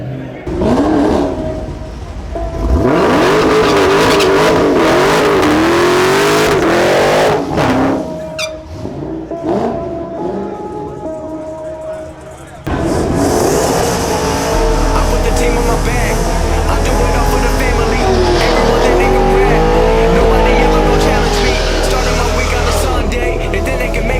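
A Dodge Demon and a Shelby Super Snake at a drag race, engines revving and roaring loudly with rising pitch sweeps, then a sustained rumble under music and voices.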